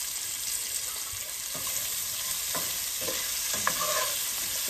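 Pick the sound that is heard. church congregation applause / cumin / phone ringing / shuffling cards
cumin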